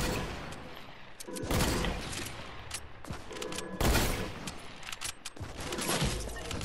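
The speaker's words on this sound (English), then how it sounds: "you're both really shooting at me" Rapid bursts of automatic gunfire in the video game Fortnite, loud and dense, with several overlapping volleys repeating across the clip and no talk over them.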